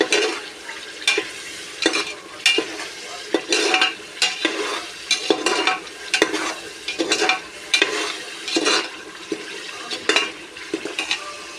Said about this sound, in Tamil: இப்போ இதில் மல்லித்தலை புதினா பச்சை மிளகா இஞ்சி பூண்டு பேஸ்ட்டு வெங்காயம் எல்லாமே போட்டு வணக்கிட்டுருக்கோம்